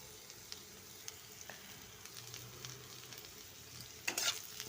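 Browned onions with ginger paste and cumin powder stirred in a pan, a faint steady sizzle with a few light ticks, then sharper scraping stirs near the end, close and quiet, with no talking.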